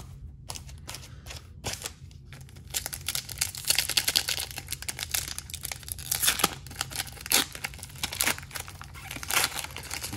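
Scissors cut open Pokémon booster packs: repeated crisp snips and crinkling of foil packaging, irregular cuts and rustles close by, with no talking.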